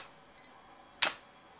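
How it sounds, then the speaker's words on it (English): Nikon D300 camera in handheld live view: a quick autofocus double beep, then the sharp, loud clack of the mirror flipping, close and isolated. "what you heard there was the sound of the mirror flipping in order to take a reading"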